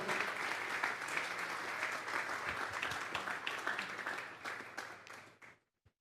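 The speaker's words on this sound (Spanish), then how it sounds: "Vamos a darle una ofrenda de palmas a Dios en esta hora." A church congregation applauds during a Sunday morning service, a steady, full room of clapping that holds for about five seconds, then trails off and stops abruptly, with a last stray clap.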